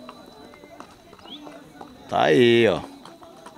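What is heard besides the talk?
quarter horse mare hooves clip-clopping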